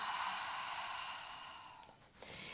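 A long exhaled breath during a Pilates breathing exercise, a steady close airy hiss that gradually tapers off, heard alone.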